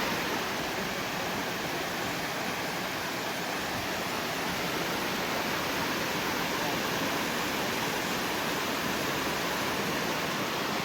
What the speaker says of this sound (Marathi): इकडे धबधबा बघा.